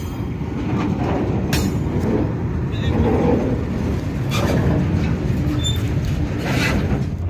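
A train pulls in on the Ahmednagar–Beed–Parli railway line at Beed, a loud, close rumble with clattering wheels and brief high squeals, and faint voices can be heard underneath.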